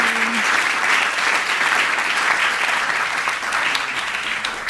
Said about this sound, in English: please give them a big, big, big applause